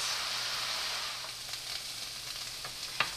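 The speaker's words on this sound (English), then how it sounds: "Yellow onions. And I'm going to let that saute first." Yellow onions sauté in a pan for a Japchae stir-fry, a soft, steady sizzle with a few light taps of a utensil toward the end and no speech.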